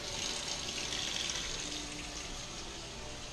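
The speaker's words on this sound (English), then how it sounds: "I'm using tap water." Warm tap water runs steadily from a kitchen faucet while dough is being prepared, a continuous broadband rush heard up close and alone, without speech.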